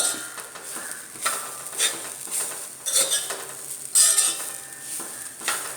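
Grated coconut is dry-roasted without oil in an uruli, with repeated close scraping and stirring strokes of a metal spoon over a light, dry crackle.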